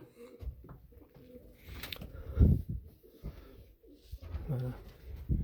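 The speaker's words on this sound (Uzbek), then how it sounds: "Shu kaptarlar maza qilyapti" Pigeons coo softly at close range in a coop, with repeated low throaty coos in uneven bursts and some faint rustling and shuffling between calls.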